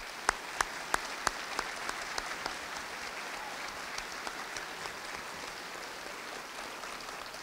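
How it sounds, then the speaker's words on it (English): A burst of debate audience applause with a few sharp claps standing out at first, then settling into steady, moderately distant clapping from a crowd. "please give these two participants a round of applause"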